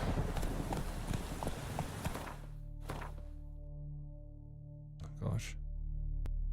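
Geralt's horse Roach clip-clops along in The Witcher 3, a quick burst of close hoofbeats that fades into a steady game hum, with a couple of isolated thuds later on.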